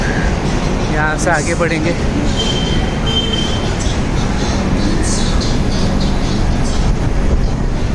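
An AC generator car of the Rajdhani Express gives a steady, loud mechanical drone at a station platform while luggage is loaded, with a brief voice speaking over the continuous hum.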